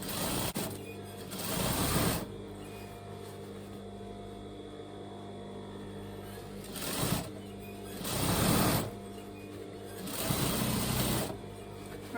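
A sewing machine stitches a second row of seams on rockabilly trousers, heard in several loud whirring bursts of a few seconds each, separated by quieter pauses.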